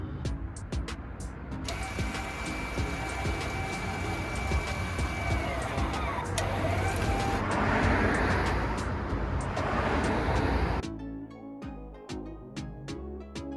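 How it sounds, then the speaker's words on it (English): Rear electric parking brake motors on a Volkswagen CC running forward, a steady mechanical whir with a thin tonal whine lasting several seconds before cutting off abruptly, bracketed by clicks. "Now you're gonna go to move forward brake motors."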